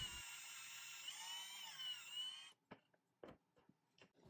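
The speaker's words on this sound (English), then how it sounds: "Then just pre-drill a hole and attach it to the indicator with a wood screw." A power drill bores a pilot hole in wood for a wood screw, a steady high whine for about two and a half seconds, then stops, leaving a few short knocks and handling sounds.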